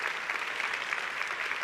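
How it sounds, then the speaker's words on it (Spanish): Congregation applauding in a church service, a steady, dense patter of many hands clapping at moderate volume with no pauses, sounding from a room full of people. "si va a aplaudir, hágalo con ganas"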